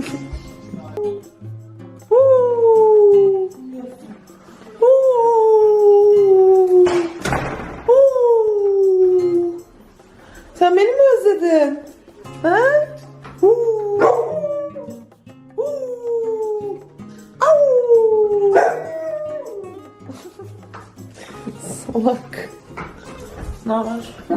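Dogs howl in long, drawn-out rising and falling wails, repeated many times with short yips and whimpers between, fairly close and loud, while people talk now and then in the background.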